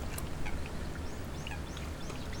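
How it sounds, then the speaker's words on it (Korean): A Eurasian coot calls at the Baengnyeonji lotus pond in Muan, South Korea, during the May breeding season, giving a few short, scattered calls over a constant outdoor background hum. "물닭 한 마리가 한창 분주하다."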